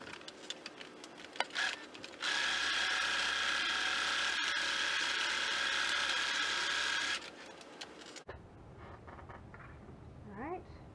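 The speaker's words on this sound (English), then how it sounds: "we're going to sew 1/4 inch away from the edge all the way across" A domestic sewing machine stitches a quarter-inch seam across a patchwork fabric bag, running in one steady mechanical whirring stretch of about five seconds, with quieter handling and talk before it and fabric rustling after.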